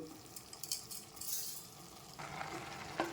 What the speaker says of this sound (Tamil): இப்போ இதை நல்லா கலந்து விட்டுக்கலாம்.